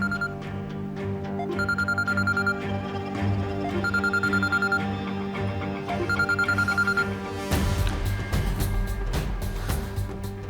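A phone ringing in repeated electronic trill bursts, several rings in a row, over a steady musical background that swells louder toward the end.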